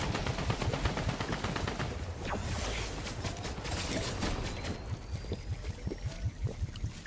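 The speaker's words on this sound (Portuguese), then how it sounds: "Atiraram em mim da direita, do safe." Gunfire in the Free Fire battle-royale video game: rapid bursts of sharp, crackling shots in quick succession, some closer and louder, with mechanical clicks between them and no talk.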